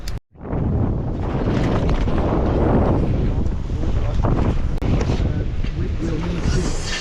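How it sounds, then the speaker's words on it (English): Strong squall wind batters a sailboat crossing the Irish Sea, a loud continuous roar of gusts buffeting the microphone with rushing water and brief speech underneath. "This is the first time I've been hit by a squall"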